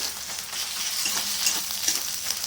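Cumin paste sizzling with ginger, garlic and mutton in a pan, a steady close frying hiss with faint scrapes of stirring throughout.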